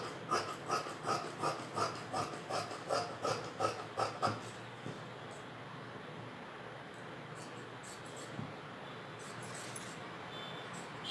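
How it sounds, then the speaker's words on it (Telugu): Scissors cutting blouse fabric for a waist belt snip in a quick rhythmic run of about a dozen close crisp cuts, then give way to soft rustling and quiet handling of the cloth. "ఇప్పుడు నడుం బెల్ట్ కోసం కట్ చేసుకుందాం."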